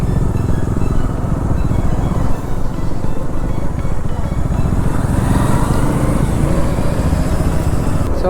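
Close, loud motorcycle engine drone as an Aprilia RS 457 rides alongside in traffic, a continuous throbbing rumble with wind noise and a rising note near the end, no talk.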